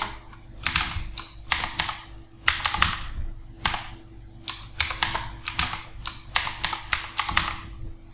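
Rapid bursts of keystrokes clatter on a computer keyboard as a wallet password is typed, close and crisp over a faint steady hum, in irregular clusters with short pauses.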